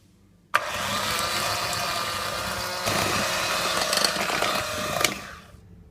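Electric mixer beating butter cake batter, a steady loud whirring motor that starts abruptly, runs continuously with a slight rise in pitch midway, then winds down near the end.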